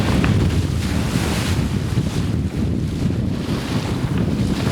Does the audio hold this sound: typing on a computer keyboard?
no